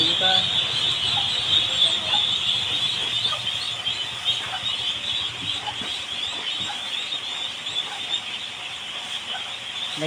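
Young poultry chicks in a damp pen cheeping loudly and constantly, a dense high-pitched chorus of peeping carrying on throughout while they are fed.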